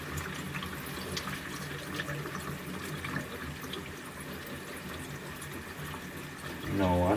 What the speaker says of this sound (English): The water flows into the tank, washes the film material, and flow out through the openings.